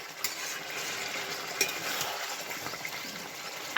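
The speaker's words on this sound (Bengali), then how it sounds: "মা কিন্তু মাটন রান্না করছে" Mutton curry cooking and being stirred in a hot pan. A close, steady sizzle runs throughout, with occasional scraping and clinking from the stirring utensil against the pan.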